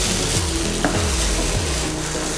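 Slices of French toast fry in a hot pan just after being flipped, giving a steady, close sizzle with a few soft bumps of the pan and utensil and no talking.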